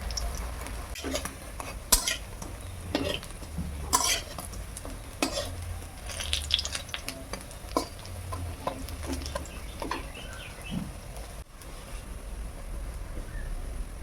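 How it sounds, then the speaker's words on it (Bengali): Thankuni leaf fritters (bora) frying in oil over a low flame, a soft continuous sizzle under frequent clinks and scrapes of a utensil turning them in the pan. "একটু সময় ধরে লাল লাল করে বড়াগুলো ভেজে নিয়েছি।"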